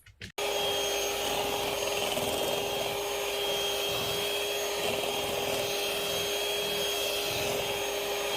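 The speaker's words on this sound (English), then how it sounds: "Right now I'm at the stage where I added my wet to my dry, and I am mixing." Electric stand mixer whirring steadily on high speed while mixing wet and dry ingredients into bread dough, a continuous close motor drone after a brief start, with no talking.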